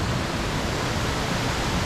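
Waterfall pouring into a large pool in a wooded setting, a steady, dense broadband rush of falling water that holds constant and fairly close throughout, with no voices over it.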